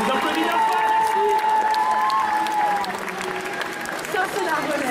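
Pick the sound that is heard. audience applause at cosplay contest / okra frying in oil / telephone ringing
audience applause at cosplay contest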